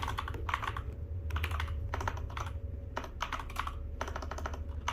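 Typing on a computer keyboard, close and quick bursts of key clicks separated by short pauses, over a low steady hum, with no talking.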